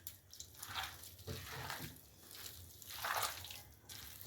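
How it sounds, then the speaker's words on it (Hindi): Water is poured and stirred into a bowl of pakora batter, giving soft, faint splashes and squishy mixing sounds in a few short bursts, close by and without talk. "थोड़ा पानी डाल के इसे पकौड़ों का बैटर तैयार करें।"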